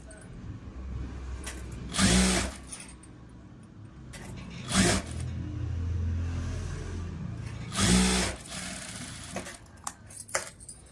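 A sewing machine stitches a blouse piece in three short, quiet whirring bursts separated by pauses, followed by a few faint clicks and handling noises at the end.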